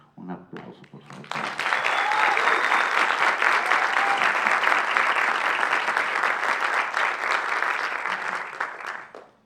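An audience at an event bursts into sustained, dense applause that swells quickly, holds steady for several seconds and then tapers off.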